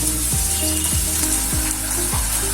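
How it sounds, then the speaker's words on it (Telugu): Onions fry in a pan, giving a steady sizzle broken by four or five evenly spaced scraping stirs of a spoon against the pan, close up, with no talking. "ఆనియన్ బాగా గోల్డెన్ బ్రౌన్ కలర్ వచ్చేదాకా ఫ్రై చేసుకోండి"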